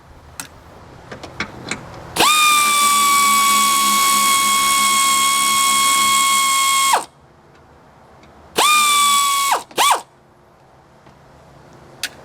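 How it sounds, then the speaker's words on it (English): A pneumatic air ratchet removing bolts on a Chevrolet Tahoe during a water pump replacement: one long, loud, steady whine of nearly five seconds, then two short bursts after a pause. "I'm going to use air tools"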